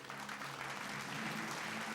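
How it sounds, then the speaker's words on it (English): Audience applause at an award ceremony for a real estate event in Bangalore, a steady dense clapping that holds evenly across the short span without any voices over it. "A huge round of applause for them,"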